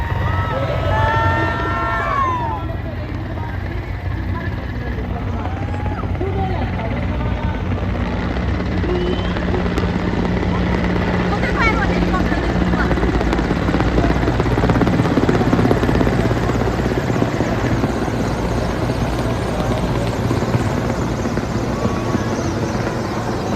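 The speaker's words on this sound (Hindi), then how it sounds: "देखो हेलीकॉप्टर।" A helicopter flies overhead at the Republic Day parade in Delhi, its loud rotor thrum droning steadily for the whole stretch, with wind noise and faint crowd murmur beneath.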